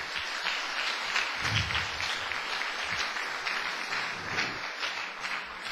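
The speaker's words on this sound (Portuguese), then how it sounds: "Agora você pode dar uma salva de palmas para o Senhor." A church congregation applauds in a sustained, even roar of many hands, busy and bright, with a few voices faintly cheering beneath the clapping.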